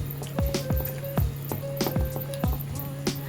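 Gram flour batter for bhaji, stirred steadily in one direction, gives a run of soft, wet squelching strokes at an even rhythm, close up, over a faint constant hum.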